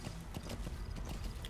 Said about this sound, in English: I can't seem to make this horse go